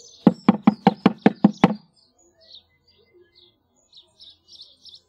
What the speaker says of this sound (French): a frappé à la porte